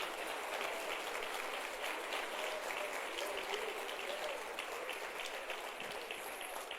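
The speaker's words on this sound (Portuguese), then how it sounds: "Pode dar uma salva de palmas para ele." Congregation applause during a morning communion service in church, a fairly soft, continuous patter of many hands clapping with a steady, rain-like texture.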